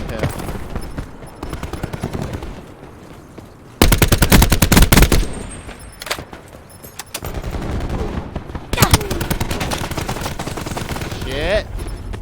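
Rapid automatic gunfire from a hip-fired weapon in a shooter video game, bursts of dense cracks coming in several loud stretches with other players' shots mixed in and a person talking between them.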